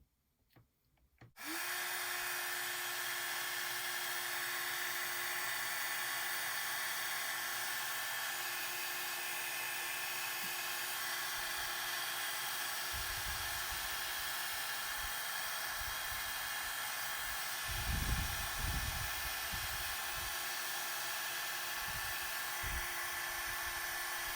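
A heat embossing tool blows steadily and loudly on a vellum card held with pliers, a continuous whirring hiss with a fixed hum that runs almost the whole time, apart from brief low handling knocks near the end.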